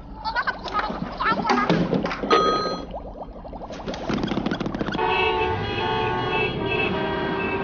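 Several car horns toot and honk in quick bursts, then a sustained blaring horn holds steady, close and loud.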